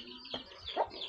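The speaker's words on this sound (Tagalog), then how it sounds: "Oh, yung manok nandito na sa ibabaw ng ano." A chicken clucks nearby in short, choppy bursts, with two clear clucks standing out over quiet outdoor background noise.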